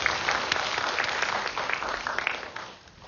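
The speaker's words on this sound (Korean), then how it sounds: "한번 박수 부탁드립니다" An audience at a Korean academy's university admissions briefing claps for two teachers, with warm, continuous applause that tapers off near the end.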